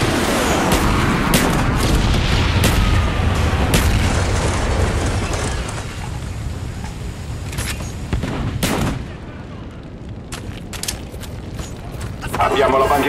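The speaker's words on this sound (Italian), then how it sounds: "Bombardamento napalm in corso." Napalm airstrike explosions in Call of Duty Black Ops on the Nuketown map, loud rolling booms layered with gunfire bursts and crackling fire, the barrage thinning briefly before another heavy blast, with game voice chatter underneath.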